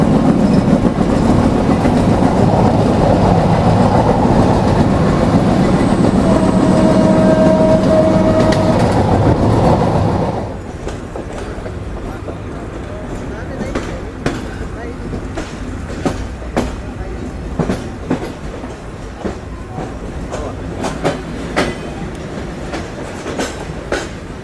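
Rupshi Bangla Express intercity train in Bangladesh running on rails, with a loud steady rumble for about ten seconds before it drops to a quieter interior hum broken by scattered clicks and knocks from the track.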